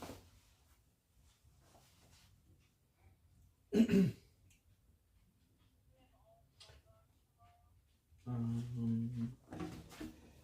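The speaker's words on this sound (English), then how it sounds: "I had to clear my throat back." A person clears their throat twice: a short rough burst, then a longer, louder guttural clearing after a quiet pause.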